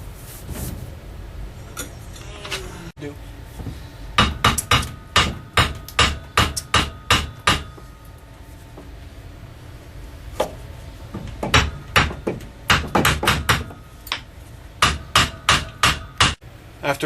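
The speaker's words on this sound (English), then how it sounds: "After lots of hammering and swearing" Hammer blows drive a lolly column into place, sharp loud strikes coming in quick rhythmic bursts of several hits with short pauses between, close and alone without talk.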